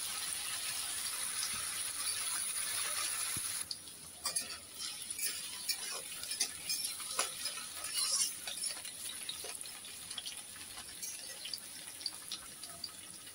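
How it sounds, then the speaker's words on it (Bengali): Potatoes fry in mustard oil in a wok with a steady sizzling hiss at first, then quieter crackles and light stirring clicks. No talking is heard. "কড়াইতে তেল দিয়েছি, সরষের তেল। আলুগুলো ভেজে নেব"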